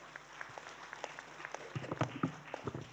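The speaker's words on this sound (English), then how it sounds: "Come on, let's have a round of applause for Arrowhead." An audience at a startup pitch event gives a faint round of applause, starting as scattered individual claps and building into a denser, uneven patter toward the end.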